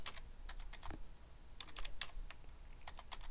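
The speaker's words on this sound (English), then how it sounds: "I can't type." Quick, light keystrokes on a computer keyboard come in short bursts with brief pauses between them, close and fairly quiet against a faint room hiss.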